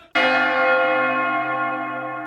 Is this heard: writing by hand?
no